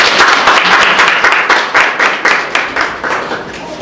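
Audience applauding in a hall during an award ceremony for a maths and English olympiad, a loud, dense burst of clapping with a pulsing rhythm that carries on through the whole moment.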